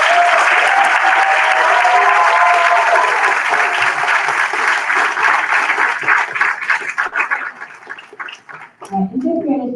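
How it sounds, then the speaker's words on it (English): Loud, sustained applause from a school audience at a fifth grade moving-on ceremony, dense clapping filling most of the clip before thinning out near the end, with a few voices breaking through. "Let's give them one more round of applause."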